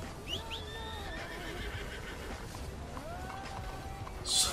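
A horse in Red Dead Redemption 2 neighs with several drawn-out whinnies over faint hoofbeats, fairly close, with a sharp noise at the end and no talk.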